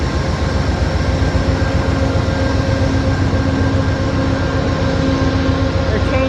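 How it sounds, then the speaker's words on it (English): A long-distance passenger train from Chicago to Los Angeles rumbles steadily from inside a carriage, a loud continuous roar with faint hum tones and no break, without clear talk. "And so this is a shorter train."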